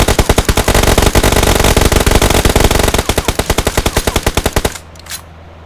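Loud, close automatic gunfire from BGMI (PUBG) rattles in a fast, even stream of shots for about four and a half seconds, then cuts off into near quiet with one faint sound after.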